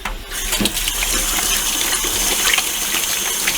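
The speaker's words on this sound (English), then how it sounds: "rinse my hands real fast" Tap water runs steadily from a faucet as hands are rinsed in a kitchen while a chicken is prepared for roasting, a continuous close gushing wash with no talk.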